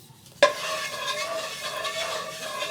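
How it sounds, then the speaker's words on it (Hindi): A utensil knocks once against a wok, then stirs water and ghee in a steady swirl over a faint sizzle, close and moderately loud with no talk. "इसे अच्छे से मिक्स करेंगे"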